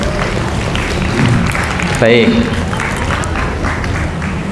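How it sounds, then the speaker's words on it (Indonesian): Audience clapping for the person holding number 10 at a gathering, a continuous patter of hands mixed with crowd murmur, with a spoken voice cutting in briefly. "Iya, tepuk tangan yang nomor 10"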